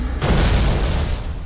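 Explosion in the video game Oddworld New 'n' Tasty, a sudden loud broadband boom that bursts in abruptly and sustains a dense roaring rumble for about a second before easing slightly, with no talking.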